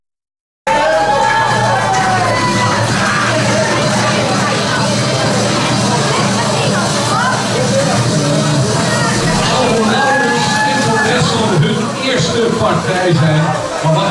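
A loud crowd at a live fight event cheers and shouts for two fighters, a steady dense roar of voices and applause that starts abruptly and holds for the whole stretch.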